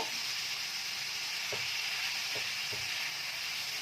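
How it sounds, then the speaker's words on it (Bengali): Onion powder and spices frying in a pan at home, a steady close sizzle with a few soft stirring scrapes of a spoon through the mix. "এখন ভালো করে আগে একটু ভাজা করে নেব।"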